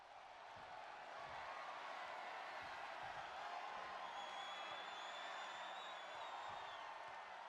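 A wrestling crowd at FEW All Out War 2025 boos, heard as a steady, faint, distant arena roar of massed voices that holds throughout.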